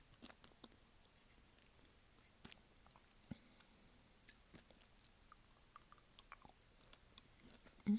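Soft, close chewing and biting of Dubai chocolate, quiet and intermittent with small crunchy clicks in a hushed setting.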